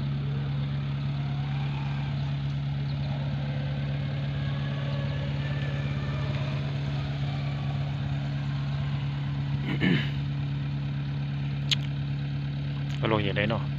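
A John Deere 50 tractor engine idling outdoors among a crowd of tractors, a steady low drone throughout with a few brief sharp noises near the end.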